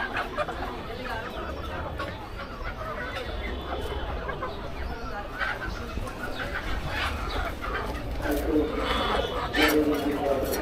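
Chickens and pigeons for sale at a market in Bangladesh cluck and squawk steadily amid dense crowd and market noise, with voices talking throughout.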